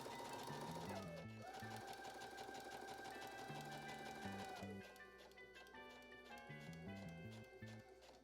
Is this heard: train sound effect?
no